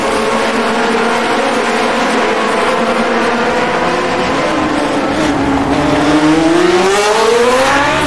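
Vintage race car engine in a racing sim game, a loud continuous drone that rises steadily in pitch as the throttle opens, alone with no talk.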